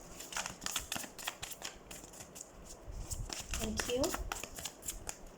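Tarot cards shuffled and drawn during a reading, giving a run of close, crisp riffling and flicking bursts that alternate with soft handling rustles, while a voice speaks briefly over them.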